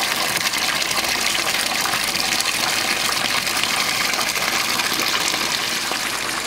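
Water gushes from a pump outlet into a low-budget home aquaponic tank, a loud, continuous, close rushing splash that stays steady throughout.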